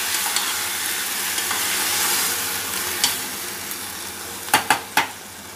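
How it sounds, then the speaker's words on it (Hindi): Chopped tomatoes added to a hot pan and stirred in, a steady loud sizzle throughout with a few quick, close clinks of a spoon against the pan near the end. "मैं इसमें जो मैंने टमाटर काटा था मैं डाल देती हूँ। मैं इसे अच्छे से मिला दूंगी।"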